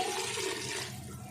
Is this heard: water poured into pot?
yes